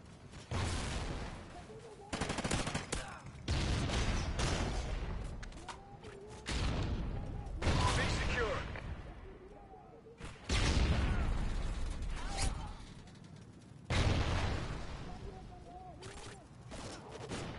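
Grenade blasts and gunfire in Call of Duty erupt in repeated loud bursts separated by short lulls, the booms and shots fairly close and harsh.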